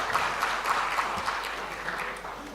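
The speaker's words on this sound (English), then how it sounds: "Let's give a round of applause for our speakers." A workshop audience at an international symposium in Jakarta gives its speakers a round of applause, a moderately quiet, even patter of many hands clapping through the clip with no talking.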